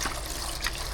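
Hot water splashes and trickles onto hassa fish sitting in lime water in a Trinidadian kitchen, making a short, steady pour with a light bubbling wash and no voices.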